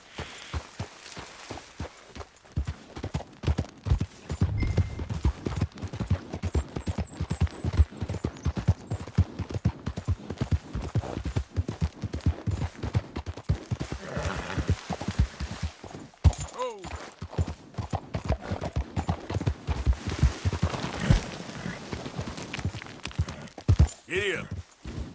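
Horse hooves clip-clop and gallop in Red Dead Redemption 2 on PS4, a steady rapid drumming of thuds, with occasional voices over it.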